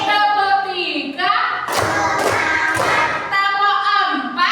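Hand claps in a children's counting clap game, a classroom icebreaker, with a teacher chanting the count; a few sharp claps land between sung phrases, loud and close under the voice.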